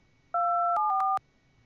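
A short electronic radio menu notification in the DCS World flight game's AV-8B Harrier mission, a clean two-tone beep sequence of a few quick stepped pitches lasting under a second, alone against near silence.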